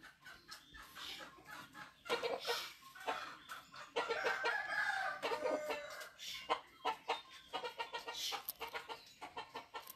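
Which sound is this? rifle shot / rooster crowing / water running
rooster crowing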